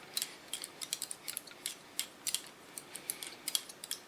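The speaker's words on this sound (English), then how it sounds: "It's all scissor over comb because I want to get nice soft lines" Scissors snipping hair in the scissor over comb technique during an asymmetric haircut, rapid light metallic snips in clustered bursts, close and quiet with no talk.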